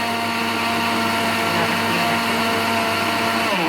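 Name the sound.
blender grinding lentils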